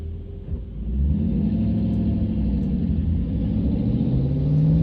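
A car accelerates away from a green light on a rainy road, its engine rumbling steadily and rising slightly, close and continuous with no talk.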